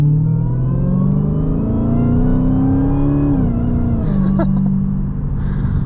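A Dodge Challenger SRT Demon with a supercharged engine, heard from inside while driving: a continuous whine and engine drone that climbs, holds, then dips as the revs shift, with no talking over it.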